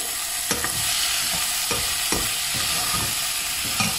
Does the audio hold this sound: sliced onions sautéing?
yes